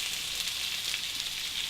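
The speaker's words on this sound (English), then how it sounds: "Toss your shrimp up in your favorite seasonings and throw them right on the heated skillet." Seasoned shrimp hiss and crackle steadily on a heated skillet, a close, even sizzle that holds without a break.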